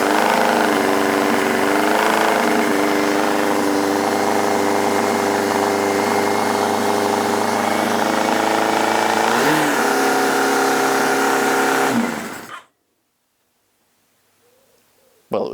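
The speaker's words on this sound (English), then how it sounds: "It was revving its nuts off" A Yamaha XJR1300 motorcycle engine, first start after valve checks, runs loudly and steadily, revving high for about twelve seconds before cutting off abruptly into near silence.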